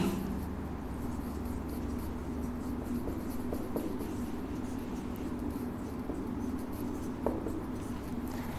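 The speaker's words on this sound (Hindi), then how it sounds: "मैं नाम लिख देता हूं, यहाँ पर बोल भी देता हूं, लिख भी देता हूं" A pen scratches faintly as notes are written by hand during a Hindi study lesson. The writing is soft and steady, with occasional small taps against a quiet room hum.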